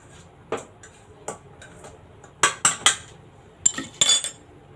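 A utensil stirs dry basbousa ingredients with a pinch of salt in a bowl, giving scattered metallic clinks and scrapes that grow sharper and quicker toward the end, close and without speech.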